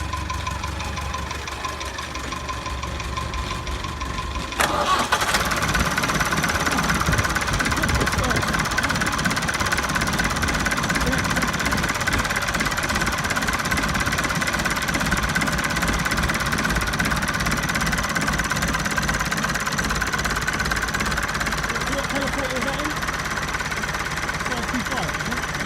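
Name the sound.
Nuffield tractor engine starting and running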